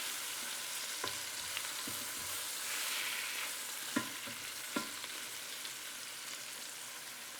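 Pot roast meat searing in a Ninja Foodi pot gives a steady, close sizzle, broken by a few sharp clicks and scrapes as the pieces are turned.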